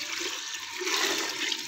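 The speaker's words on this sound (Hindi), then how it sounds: "शामिल कर दूंगी मैं इसके अंदर पानी तकरीबन" Water pours steadily into a cooking pot of haleem mixture, a continuous rushing splash lasting the whole moment with no voice over it.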